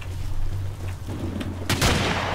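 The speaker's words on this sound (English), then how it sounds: "Oh, I shot him." A gunshot in the Battlefield 2 Omnicide mod: a low steady in-game hum with faint clicks, then one loud, sharp shot near the end whose boom briefly rings out.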